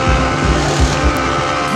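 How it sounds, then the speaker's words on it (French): A Formula 1 car enters the pit lane, its engine a steady, fairly loud buzzing drone with slight pulsing over under two seconds. "Une voiture entre dans la voie des stands"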